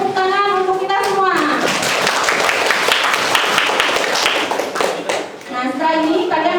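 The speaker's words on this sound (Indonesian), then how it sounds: "Yang pertama saya minta kalian tepuk tangan untuk kita semua." A classroom of students claps together in a dense burst of applause that runs for several seconds, with a voice speaking briefly before and after it.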